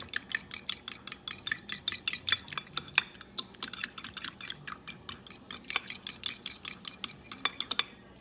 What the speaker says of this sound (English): stir that up some more and use it.